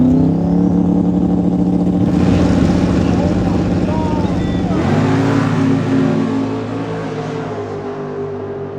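A drag race car with a huge 9-liter engine, a Doug Watson machine, roars down the strip in loud sustained acceleration, the pitch climbing in stages before fading slightly as it pulls away, with people talking nearby.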